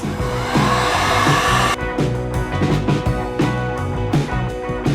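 A heat gun blows steadily at close range while warming the mid section of a café racer seat pan to reshape it, a continuous loud whooshing drone with slight shifts in pitch.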